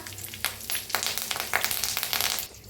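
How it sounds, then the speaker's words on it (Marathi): Curry leaves sizzle as they drop into well-heated oil for a traditional Marathi green-chilli brinjal dish, a close, continuous crackling fry with bursts of spitting and stirring. "आता तेल चांगलं गरम झालंय त्याच्यात टाकूया कढीपत्ता"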